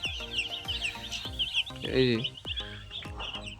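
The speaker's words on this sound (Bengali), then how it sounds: "দেখতে পাচ্ছেন মুরগিগুলো কি সুন্দরভাবে চলাফেরা করছে," Broiler chickens in a gas-heated brooding shed, making repeated short clucks and peeps near and far over soft pecking clicks, with one brief spoken word.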